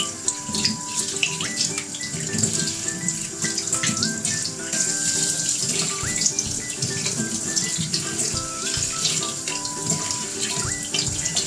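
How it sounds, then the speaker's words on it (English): Tap water runs steadily into a sink as green beans are rinsed by hand, a continuous close splashing stream with faint knocks of the beans against the basin throughout. "let's wash the green beans"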